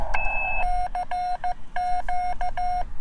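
A uSDX+ transceiver sends Morse code as a clean, steady tone keyed in crisp dots and dashes, loud and close with a rhythmic on-off pattern and no talking.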